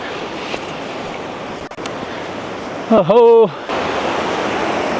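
A mountain river near Laspa in the Johar Valley rushes steadily as a broad, loud roar throughout, with a brief spoken exclamation and a short harmonic vocal sound layered over the continuous flow.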